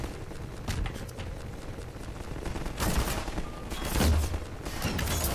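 Gunfire from a weapon in Half-Life 2, heard as repeated sharp bursts of shots at varying distances over a busy, noisy game soundscape, with several louder blasts in the second half.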